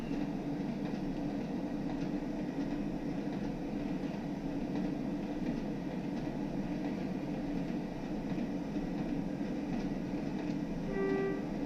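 A Class 101 DMU diesel train runs steadily on the Tees Valley Line in Train Sim World 3, its engine and wheels giving a continuous rumble throughout with a brief tonal whine near the end, no talking.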